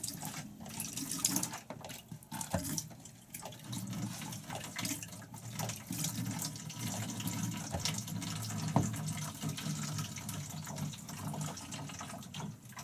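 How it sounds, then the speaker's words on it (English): Water runs steadily from a tap into a small camper van sink, a continuous splashing trickle with occasional gurgles, close and unaccompanied by talk. "all the water drains right into the tank"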